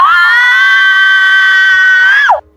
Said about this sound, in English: piercing scream traveled across the entire school